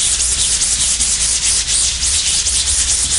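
A clean brush scrubs a screen printing screen in close, steady back-and-forth strokes, a loud continuous rough swishing with no talk.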